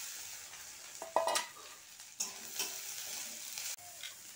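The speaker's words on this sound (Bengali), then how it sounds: "পেঁয়াজ লাল করে ভেজে নিব, আর এখন কাঁচা লঙ্কার চেরাগুলো দিয়ে দিব।" Onions and slit green chilies fry in a pan with a steady, quiet sizzle, broken by a few sharper bursts of crackling as the chilies go in and the mix is stirred.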